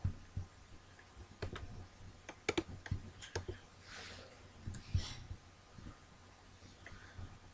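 Keys clicking on a computer keyboard as a volume label is typed while setting up an MS-DOS virtual machine, a short burst of uneven, close taps and clacks with pauses between groups.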